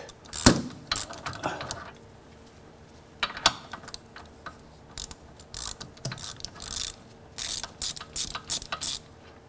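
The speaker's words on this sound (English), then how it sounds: "I've made a little thread chaser and I'm running it through these holes" A homemade thread chaser cut from a caliper bolt is turned through brake caliper bolt holes, giving close, intermittent metallic ratcheting clicks and scraping in short irregular bursts, with no talking.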